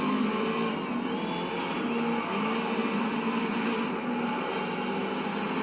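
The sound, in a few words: race car spinning out in Race Driver GRID demolition derby video game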